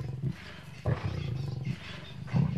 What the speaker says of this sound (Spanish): Siete leones luchando por su parte.